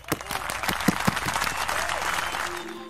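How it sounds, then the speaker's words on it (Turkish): Brief applause, a short burst of close hand clapping from a single person, quickly fading out. "Kendimi alkışlamak istiyorum."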